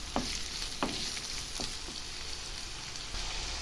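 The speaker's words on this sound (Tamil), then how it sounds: "இப்போ எண்ணெயிலேயே வெங்காயம் நல்லா கொஞ்சம் வதங்கட்டும்." Onions frying in oil for a dried anchovy thokku, a steady soft sizzle with a few brief stirring clicks, heard alone at a modest level.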